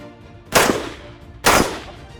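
Two sharp AK-47 rifle shots crack at an outdoor shooting range about a second apart, each loud and close with a short decaying echo and quiet between them.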